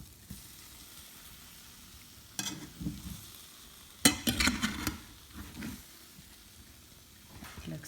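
Okra curry sizzles and fries in a pan, with bursts of stirring and scraping as the half-cooked pieces are turned over, loud in short clusters between quieter stretches of steady hiss.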